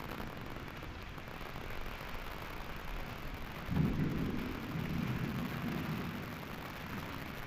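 A thunderstorm with steady rain and a low rumble of thunder rolling in partway through, heard from a distance in stormy weather that brought hail.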